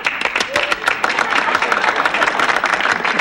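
Studio audience applause in a sitcom, a dense, loud wash of clapping running steadily throughout with a brief tonal squeak near the start.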